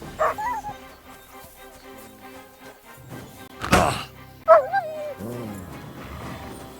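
Dog barking in the medieval role-playing game Kingdom Come: Deliverance 2, a few sharp barks and yips near the start and again midway, with whimpering yelps and a loud thud between them.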